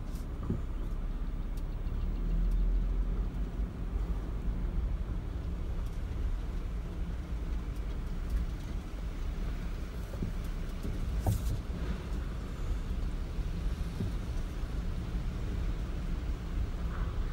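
A car rolls slowly through a recycling drop-off center for scrap metal and garbage, giving a low, steady engine and road rumble inside the cabin with occasional faint clunks, and no talking.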